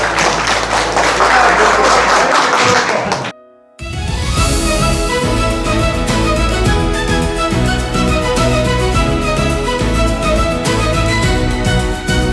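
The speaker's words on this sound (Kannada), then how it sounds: "ರಾಜೇಶ್ ಅವ್ರಿಗೆ ಒಮ್ಮೆ ಜೋರಾಗಿ ಚಪ್ಪಾಳೆ ಪ್ಲೀಸ್" A workshop audience gives a loud, dense burst of clapping for Rajesh for about three seconds. It breaks off abruptly into a short gap, then steady music plays.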